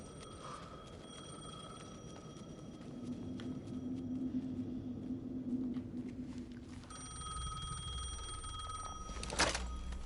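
An old-style telephone rings repeatedly in the video game Alan Wake 2, a bright metallic bell in regular bursts over a low, tense ambient rumble, with a sharper clack near the end.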